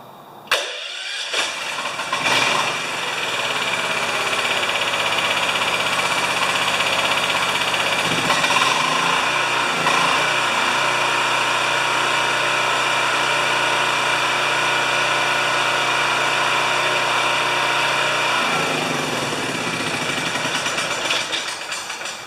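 A 7,000 watt generator engine starts and then runs steadily at close range, a loud continuous drone with a mid-pitched hum that holds for about twenty seconds and shifts pitch slightly near the end.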